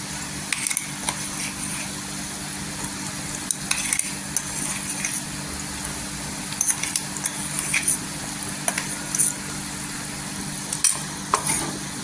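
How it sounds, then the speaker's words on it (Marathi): Onion and freshly ground masala paste sautéed in oil for a cabbage curry, giving a steady soft sizzle with scattered scrapes and taps of a spoon stirring in the pan, no voices. "तेलावर छान असं परतून घ्यायचं, म्हणजे पूर्णपणे कच्चापण निघेल"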